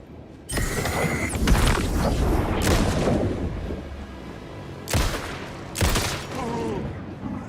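Gunfire in the video game Alan Wake II comes in several loud, close bursts with heavy booms, mechanical clatter, and quieter gaps between volleys.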